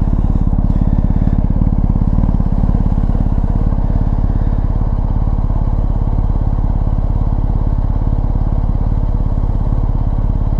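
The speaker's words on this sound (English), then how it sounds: "Listen how different that thing sounds. But yet it's still got the boxer exhaust note, though it seems deeper." BMW R1250GS boxer engine idling with a deep, low exhaust note, a loud, close, continuous throb that stays steady and unchanging throughout.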